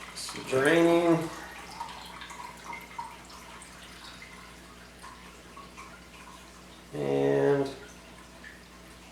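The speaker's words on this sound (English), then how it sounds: "pretty slow drip" Water draining slowly through a compression sock after being poured in from a bottle, giving two louder bursts of trickling and splashing separated by a long quiet stretch of faint dripping.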